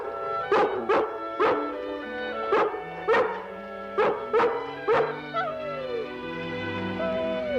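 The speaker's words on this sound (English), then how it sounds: "If you want to stay and bark at that squirrel all day" A dog barks at a squirrel in a classic television drama, about eight sharp, evenly spaced barks close by, followed by a short whimpering whine.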